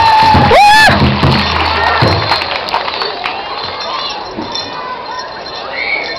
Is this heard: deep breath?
no